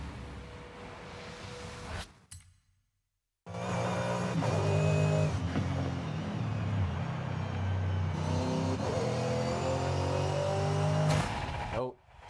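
A 2011 Bugatti Veyron Super Sport in Forza Horizon 5 roars hard on a track, engine pitch climbing through gear shifts, with a brief cut to silence early, then sustained loud revving; a voice talks over it.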